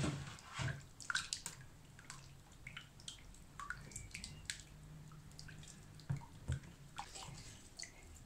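Aloe vera soap mixture, made with whole aloe leaves blended skin and all, being stirred in a container, giving soft intermittent liquid sloshing with scattered light clinks and drips at low volume.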